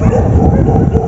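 Several dogs bark and yip in a dark outdoor spot at night, a busy overlapping chorus at moderate distance lasting about a second, with a faint voice mixed in.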